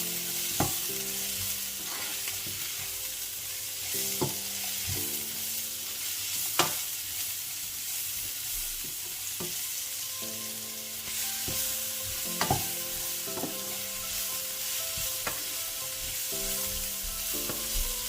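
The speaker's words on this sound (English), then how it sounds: "I will stir to mix properly" Food frying in a pot being stirred, a quiet steady sizzle with periodic scraping and knocks of the spoon against the pot at irregular intervals, no voices.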